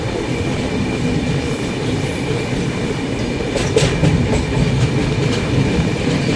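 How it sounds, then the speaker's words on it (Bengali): A freight train crosses a bridge while a passenger train on the Kolkata–Puri route runs beneath it. A loud, steady rumble of wheels with rhythmic clatter continues throughout. "ব্রিজের ওপর থেকে মালগাড়ি যাচ্ছে আর ব্রিজের নিচ থেকে আমাদের ট্রেনটি।"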